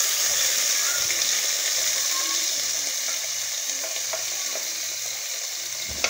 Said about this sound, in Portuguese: Aí eu vou refogar a cebola, tá?